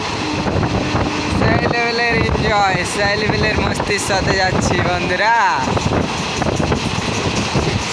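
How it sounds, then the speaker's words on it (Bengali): Karaikal Express 16529 running between Bengaluru SMVT and Hosur, its steady rumble mixed with loud wind buffeting the microphone, under someone talking throughout. "ট্রেনটা দৌড়ে চলছে তার জন্য হাওয়া দিচ্ছে, আর আওয়াজ হচ্ছে"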